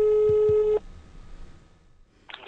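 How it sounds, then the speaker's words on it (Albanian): Telephone busy signal after a call is hung up: a loud steady tone for under a second, then a quiet line before a faint voice starts. "Mihajlo Manevski sapo dëgjoi se po e telefononim nga Alsat M, e mbylli telefonin."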